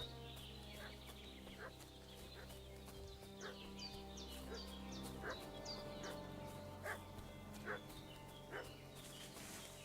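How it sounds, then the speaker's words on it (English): A dog barks repeatedly in Kingdom Come: Deliverance II, a medieval village game setting, the sharp barks coming at an irregular pace over a steady ambient game backdrop with music and farm-animal noise. "Is that Mutt I hear barking?"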